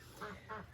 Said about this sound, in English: meaning I put them with the adult ducks. You can hear them in the background there.